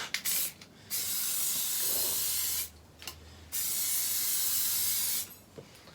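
An aerosol spray can sprays paint onto a Mercedes SLK R170 during a car respray, hissing in three long steady bursts separated by short pauses, close and loud with no talk.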